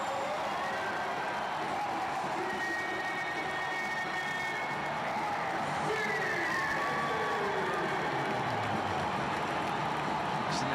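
A football stadium crowd roars after Austin FC's equaliser in a U.S. Open Cup match against El Paso Locomotive FC, a broad, distant wash of cheering that rises slightly midway.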